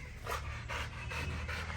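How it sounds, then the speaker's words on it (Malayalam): A Rottweiler pants close by, with quick, regular rhythmic breaths, about six even puffs in under two seconds, quiet and alone. "ഇവരാണ് നമ്മുടെ ഓ ഇമ്പോർട്ട് ഡോഗ്"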